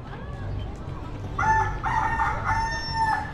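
Button-activated mechanical bird at Parc Asterix lets out a loud electronic rooster crow, a drawn-out cock-a-doodle-doo rising over a low crowd murmur and outdoor park noise.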